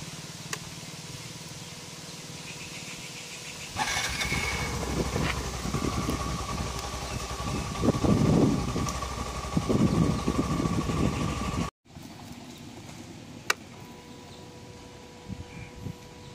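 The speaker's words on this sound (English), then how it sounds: "we can hear the sound of the fuel pump checking once we switch on the ignition" A faint idling engine hum, then a brief mechanical whir and buzzing as a motorcycle's fuel pump primes after the ignition is switched on, followed by a short cutoff and quieter hum.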